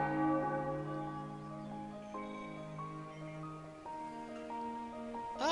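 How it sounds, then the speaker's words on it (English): Morning bell ringing in the video game Ara Fell, with clear sustained bell strikes in a descending, melodic sequence whose tones overlap and ring out, followed by a brighter shimmering hit at the end. "I hate that stupid bell."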